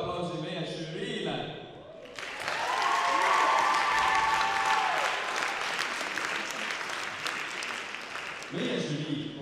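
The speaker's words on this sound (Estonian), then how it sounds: "Teeme palun suure aplausi meie žüriile!" Big audience applause for the jury at a stage event, a dense wash of clapping that swells after a few seconds of talk and holds loud for several seconds before voices return.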